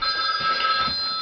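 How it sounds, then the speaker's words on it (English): A steady electronic ringing alarm tone repeats continuously without pause, fairly close and clear, with no voices. "That's my alarm going off telling me it's time to start my car"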